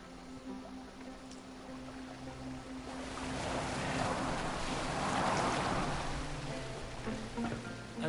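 A boat glides across open water in Assassin's Creed Valhalla, a soft whooshing wash of waves and spray that swells louder midway, then eases back under a low ambient drone.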